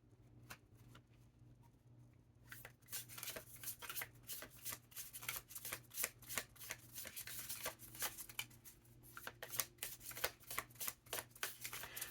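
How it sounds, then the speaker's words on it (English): A deck of tarot cards is shuffled close by, with quick riffling bursts of crisp flutters repeating over a quiet room hum after a brief pause at the start. "I'm going to pull some cards from the Spacious Tarot."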